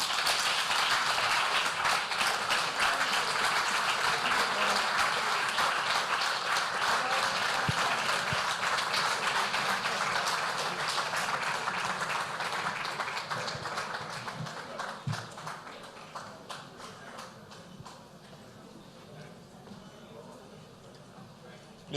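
Sustained audience applause at a business lunch hosted in Lagos, dense and loud throughout before gradually thinning out toward the end, with a voice speaking over it.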